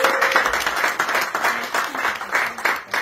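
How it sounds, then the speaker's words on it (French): Crowd applause at a celebration of Moroccans living abroad in Saint-Josse, Brussels, a dense, steady wash of many hands clapping with slight swells, fairly close and filling the whole moment. "que j'applaudis très fort"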